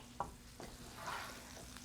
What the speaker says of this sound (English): we're going to saute the other one